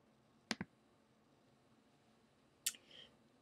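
Computer mouse clicks, two quick sharp clicks close together, then a pause and another click followed by a faint soft rustle, all quiet and alone.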